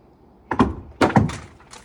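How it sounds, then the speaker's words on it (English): A rock dropped down an abandoned mine shaft lands with two close, hollow thunks about half a second apart, loud and near with no talk over them. "Here's a rock. Let's drop this down here."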